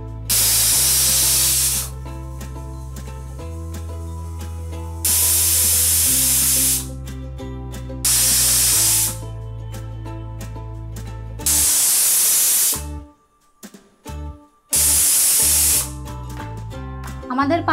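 A pressure cooker cooking chickpeas on a medium gas flame lets off loud, sustained hissing whistles in repeated long bursts, separated by brief quieter gaps with background music.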